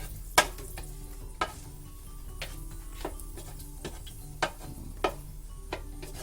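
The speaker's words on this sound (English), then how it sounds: "You can hear it starting to fry up now." Cabbage and mushrooms sizzle steadily in a pan, with occasional sharp clicks and scrapes of stirring scattered through; no one speaks.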